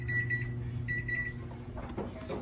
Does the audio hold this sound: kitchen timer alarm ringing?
yes